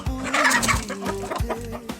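Hens and cocks cluck up close in a flock, a run of short, uneven bursts with a throaty, rhythmic quality that stays loud throughout.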